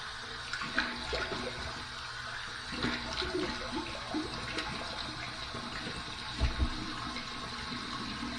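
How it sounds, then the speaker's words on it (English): Warm tap water runs steadily into a sink for a rinse, a continuous broadband splashing stream with a few brief louder splashes near the end and no voices. "Here's my warm water rinse to rinse off the excess slickness."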